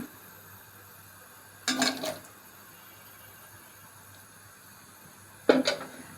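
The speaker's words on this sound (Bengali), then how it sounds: "জলের মধ্যে আমি ছেড়ে দিচ্ছি এগুলো" Chunks of elephant foot yam drop into water in a cooking pot, giving two brief splashes a few seconds apart over a quiet background.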